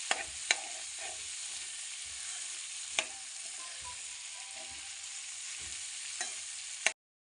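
Chickpeas and potatoes fry in a pan, with a soft, steady sizzle under occasional sharp clinks and scrapes of a spoon, faint and close, ending abruptly.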